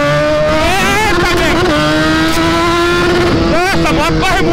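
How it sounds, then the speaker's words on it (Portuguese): A fast motorcycle roars past up close, its engine revving loudly with rising and falling pitch sweeps and a sharp Doppler shift, over steady wind and road noise. "Essa moto corre muito, você é louco"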